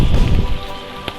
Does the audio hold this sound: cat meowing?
no